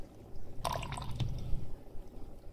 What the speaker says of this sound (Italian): svuoto il vetrino d'orologio